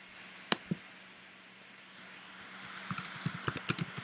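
Keys on a computer keyboard are tapped quietly: a couple of isolated clicks, then a brief burst of quick typing near the end over a faint room hiss.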